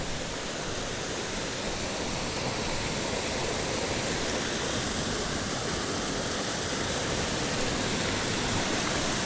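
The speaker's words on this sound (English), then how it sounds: "I can hear that waterfall up against this rock echoing off." A waterfall on a creek roars steadily against a nearby rock face, a dense, unbroken wash of falling water that holds the same loudness throughout with no voices over it.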